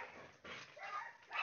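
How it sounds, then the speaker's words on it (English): Dog barking in a few faint, muffled yips and barks from another room, uneven in rhythm, with no talk over them. "let's put some music on to drown out that barking"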